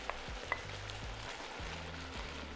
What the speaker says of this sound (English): Cook the onion for about 4 to 5 minutes, stirring occasionally until slightly softened.